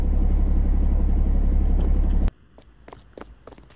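A car engine in the Roblox game RoVille roars loud and close with a steady rumble for about two seconds, then cuts off abruptly, leaving faint scattered clicks.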